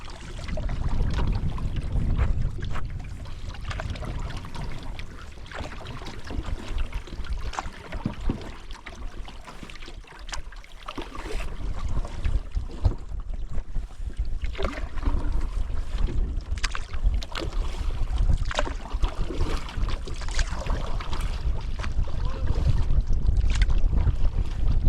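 Wind blows head-on across a back country lake during a canoe trip near burned-out shoreline, a continuous buffeting rumble that swells and eases over twenty-five seconds with faint water and paddle sounds, no talking.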